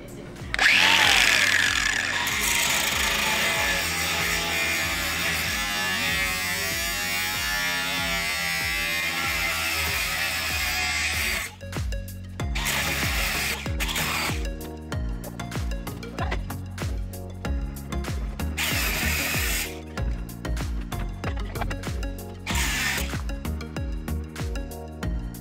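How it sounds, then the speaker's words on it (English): At a gym, a grinder whines loudly as it cuts off locker locks. The motor drones steadily at first, then breaks into stuttering bursts of rising and falling grinding. "I'm gonna be cutting off locks today with this grinder"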